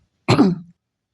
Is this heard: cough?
yes